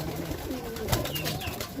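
A racing pigeon gives soft, low coos close by over a faint background hum, brief and unaccompanied by speech.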